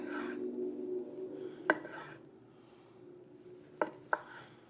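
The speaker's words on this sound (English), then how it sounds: "We're gonna cut against the grain." A Dalstrong Pitmaster Shadow Black series knife slices smoked brisket from a Ninja Woodfire Grill against the grain, with quiet soft rubbing strokes and a few sharp taps of the blade on the board.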